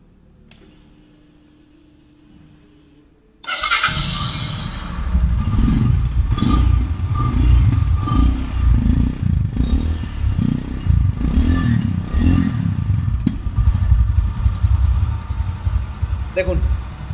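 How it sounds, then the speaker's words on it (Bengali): A 2025 Royal Enfield Scram 440 motorcycle starts after a quiet moment and settles into a loud, steady, throbbing idle with a clattery single-cylinder exhaust beat, heard up close and alone for the rest of the stretch. "এবার চলুন এই গাড়িটা এক্সস্টের সাউন্ড আমি আপনাদেরকে"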